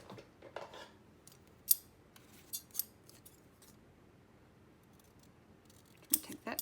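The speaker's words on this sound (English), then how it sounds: "Then I'll just use my scissors to trim that off." Scissors snip a paper frame during a folio craft project, a few sharp isolated cuts spread out over quiet moments, close by and with no speech.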